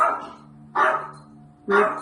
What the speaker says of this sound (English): Ruby's barking at something.